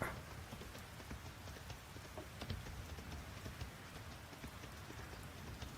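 Steady rain pattering in the farming game Fields of Mistria, a faint, even hiss of drops with occasional soft taps and no voices.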